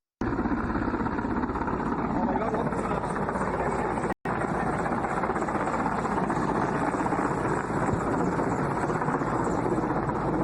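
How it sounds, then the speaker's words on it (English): An Indian Air Force military helicopter arrives on a rescue and airlift mission, its loud steady rotor and engine roar continuous and close, with a brief cut partway through. "Here the military chopper has come in fact, to try and carry out more rescue operations and more importantly, airlift people."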